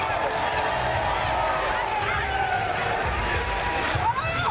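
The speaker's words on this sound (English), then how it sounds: "And the crowd goes wild." A roller derby crowd at a season finals bout cheers in a large venue, a dense continuous roar of voices and shouting with skate noise underneath, sustained at an even level throughout.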